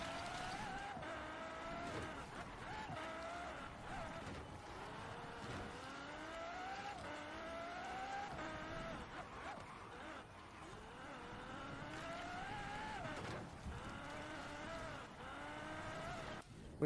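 A LEGO Ferrari hypercar driving in Forza Horizon 4, its engine steady and loud throughout with rising and falling pitch sweeps as it shifts through gears, with occasional tire noise.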